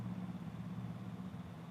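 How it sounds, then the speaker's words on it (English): A motorcycle engine hums steadily at mid distance on a road, a low continuous drone with a slight rise in revs as it passes, heard alone without talk. "It's a motorcycle,"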